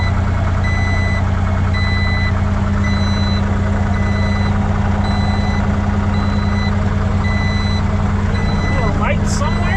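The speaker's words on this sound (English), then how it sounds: "Oh, I don't know why it's beeping." Reversing beeps repeat steadily over a loud idling truck engine during nighttime loading in Wyoming, a continuous low rumble beneath regular high-pitched pulses, with voices talking over it.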